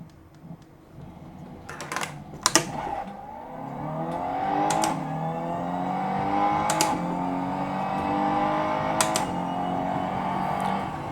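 Sim racing car engine through a BenQ MOBIUZ EX3415R monitor's standard sound preset, a few clicks and bumps, then a steady revving drone climbing through gears, with sharp periodic shift clicks over a thinner engine tone.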